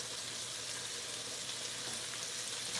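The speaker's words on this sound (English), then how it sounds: "here is my ribeye steak. I just added the garlic butter." Ribeye steak frying in a pan with garlic butter, a steady, faint, even sizzle with no talking.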